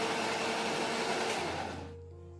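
An electric mixer grinder whirs loudly and steadily as it blends rava cake batter with milk into a fine paste, then winds down to a low hum at the end.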